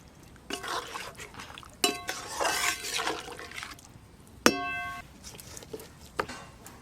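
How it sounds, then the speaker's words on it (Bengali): Water poured into a pan of fried onions for a rohu fish do-pyaza, a few splashing bursts and metallic clinks close by, with a sharp bright clang midway. "এবার জল দেব, চেরা কাঁচা লঙ্কা দেব, সামান্য একটু চিনি দেব।"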